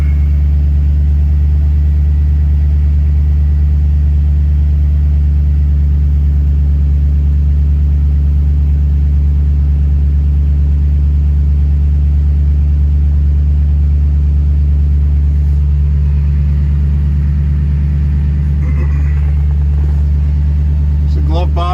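A steady, loud engine rumble from a vehicle started cold on a 47-degree day and not yet warmed up, droning evenly at close range throughout with a slight change near the end.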